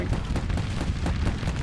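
Troops open fire in Grand Tactician, a continuous crackle of rifle volleys and booming reports that overlap into a rolling, muffled din of battle at moderate volume.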